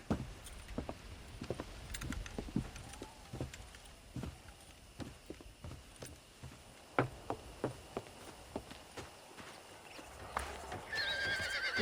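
Horses in the Red Dead Redemption video game clip-clop with steady hoofbeats at a ranch while breaking in horses, a whinny rising near the end, set against a low ambient outdoor bed.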